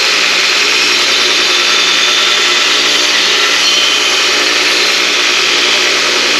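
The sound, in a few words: grinder sharpening a lawn mower blade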